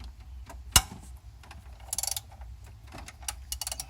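A 15 mm bolt on the jockey pulley of a 2004 Land Rover Discovery II V8 broken loose with a wrench, one sharp crack followed by short bursts of ratchet clicking, close and quiet overall.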